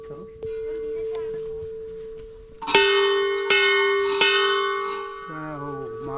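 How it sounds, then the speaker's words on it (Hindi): A temple bell at Kasar Devi in the Himalayas is struck three times, each loud metallic clang ringing out with a long shimmering decay over a constant chirp of insects. "जब मैं बजाते हुए घंटी बजाते हुए आता हूँ।"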